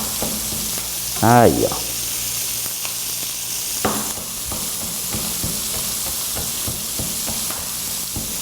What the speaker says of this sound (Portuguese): E a gente coloca então essa pimentinha junto com a cebola e o alho para dar uma refogada.